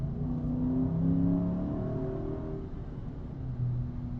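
A Dodge Charger V8 accelerates through a tunnel, its deep engine roar rising and then holding steady, heard from inside the car with a constant rumble and no talking.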